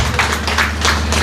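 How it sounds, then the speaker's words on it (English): Audience applause for a panel of women at a community gathering: steady, dense clapping that fills the short moment evenly and stays loud throughout, with no voices on top. "So you please give them a round of applause"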